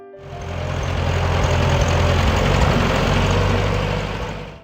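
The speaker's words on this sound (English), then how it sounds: "that gentle chug of the engine, that low, confident hum that feels almost alive" A David Brown tractor's heavy engine rumbles at an even idle, loud and close, its low, steady throb swelling slightly and then easing off.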